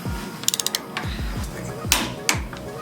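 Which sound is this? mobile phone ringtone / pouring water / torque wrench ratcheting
torque wrench ratcheting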